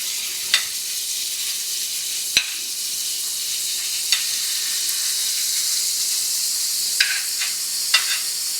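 Onion and broccoli fry in hot oil that has a little water mixed in, giving a constant close hiss with scattered sharp crackles and pops for nearly nine seconds.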